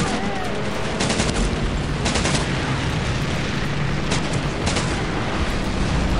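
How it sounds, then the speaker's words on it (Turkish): Dense, continuous gunfire and booming bomb explosions in Medal of Honor: Pacific Assault fill the whole stretch, loud and relentless, with rapid bursts layered over a rumbling battlefield roar. "bomba mı attılar?"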